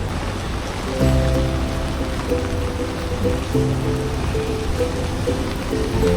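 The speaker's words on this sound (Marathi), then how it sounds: "थोडासा रिमझिम पाऊस चालू होता" Steady patter of light drizzling rain on a surface in Mumbai, continuous and close, with a low hum running underneath.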